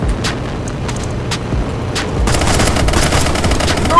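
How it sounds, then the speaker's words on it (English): Bursts of automatic gunfire in a GTA 5 shootout, spaced shots early on giving way to denser, continuous firing with a dense rumble underneath, fairly loud throughout. "Someone's trying to shoot me. Who the hell's shooting at me?"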